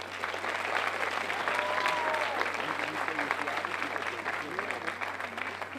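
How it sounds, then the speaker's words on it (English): A graduation audience applauds steadily and fairly loudly throughout, the dense clapping of a large crowd sustained with a constant low hum beneath it. "let's give those important people in your lives a round of applause"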